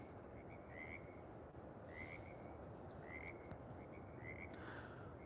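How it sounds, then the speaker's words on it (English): Frogs call at night beside a waterfall, their short repeated whistling chirps recurring about once a second over a steady roar of falling water. "The frogs, the waterfall."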